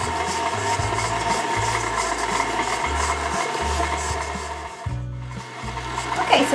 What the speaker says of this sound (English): We're just going to mix that in our mixer till it is all nice and creamy.